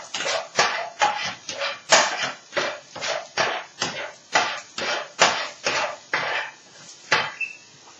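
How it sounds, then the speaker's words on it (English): Three eggs being whisked for an omelette, a steady run of quick, rhythmic clacks of utensil against bowl, close and fairly crisp, continuing evenly without talk. "3 eggs will make a decent meal-sized omelette. So I'm just going to whisk that up."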